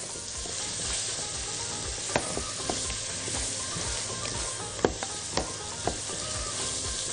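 Onions with spices and black pepper fry in a pan with a dense, continuous sizzle, broken by a few sharp taps and scrapes of a stirring spoon, close up and alone.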